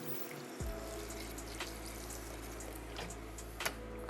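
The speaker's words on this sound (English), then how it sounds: "you're gonna take about 2 to 3 cups of vinegar, not water, vinegar" A steady stream of vinegar pours over potatoes in a pot, a continuous close splashing and filling sound that starts abruptly and holds evenly throughout, with no talking.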